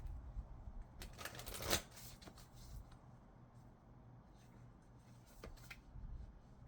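A Moonology oracle card deck is shuffled nearby, quiet riffling bursts with a sharp flurry near the start and a smaller one later, over a soft background hiss.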